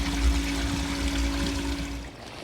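Water pours steadily into an outdoor sump basin from a French drain set a foot above it, a continuous close rushing flow with a low rumble that eases off near the end.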